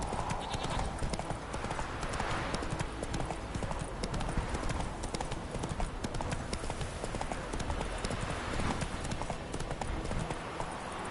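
Hooves of the horse Roach clip-clopping steadily in The Witcher 3, a fast continuous rhythm of close hoofbeats over ambient game noise.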